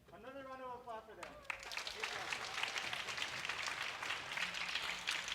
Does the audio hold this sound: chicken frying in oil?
no